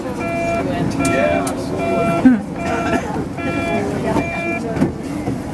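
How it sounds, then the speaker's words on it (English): Inside a moving tram in Germany, a low rumble carries on under repeated electronic beeping tones, with people talking over it. "I'm going backwards in the tram, it's rather weird."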